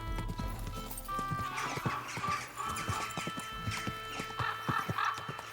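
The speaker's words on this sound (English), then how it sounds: "Easy, good horse." Horse hooves clip-clop steadily at a walking pace in the medieval game Kingdom Come: Deliverance II, with a brief whinny near the start and a low ambient music bed underneath.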